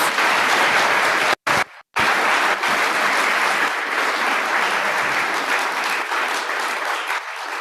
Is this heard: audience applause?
yes